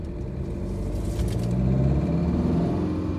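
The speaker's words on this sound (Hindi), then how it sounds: "भाई इंजन नॉइस आप एक बार चेकआउट करो" A 2022 Tata Nexon Dark Edition's engine drones in sport drive mode, a steady low rumble heard from inside the car that swells slightly as it pulls.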